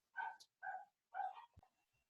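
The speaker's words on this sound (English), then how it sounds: "dogs are barking, sorry" Dogs bark at a distance, three muffled barks in a loose rhythm followed by a faint thump and a softer trailing yelp, quiet and alone.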